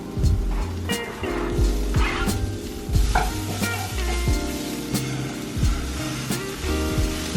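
Peppers, spinach and vegan sausage scramble frying in a pan, a loud steady sizzle with repeated scraping stirs of a utensil, close and continuous throughout.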